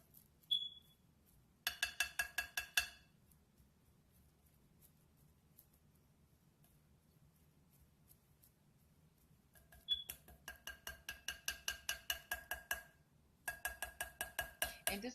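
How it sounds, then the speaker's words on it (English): A small silicone whisk stirs flour in a bowl for biscuit dough. Quick, rhythmic scraping strokes come in three separate runs with quiet gaps between them, close and fairly soft. "I'm going to get me a whisk and whisk it in"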